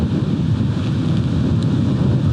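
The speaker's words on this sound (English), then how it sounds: "Wind's picking up lovely out there." Summer wind gusts across the microphone beside a lake on a carp fishing outing, giving a continuous low buffeting rumble that stays steady and fairly loud for the whole stretch, with no speech.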